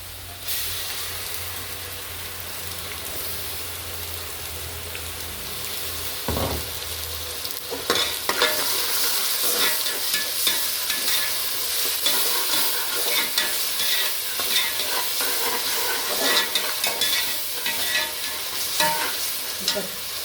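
Tomato masala frying in a pan: a low hum at first, then a loud, continuous sizzle and hiss with repeated scraping and clattering from stirring, close up throughout.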